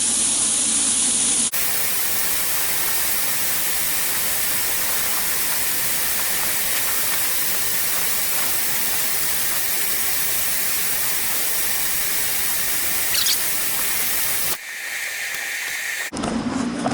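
A long, continuous hiss of an aerosol spray can, steady and loud for many seconds, pausing briefly near the end before resuming.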